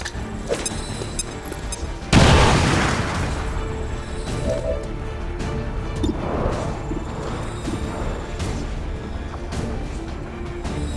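A bomb in the XCOM video game detonates with a loud sudden crash and rumbling boom, followed by a decaying roar, scattered debris impacts and ongoing game ambience.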